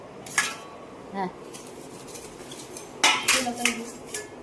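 Serving dishes and metal utensils clink close by at a home meal, a few sharp, scattered knocks and rattles over a couple of seconds, with soft voices in the background.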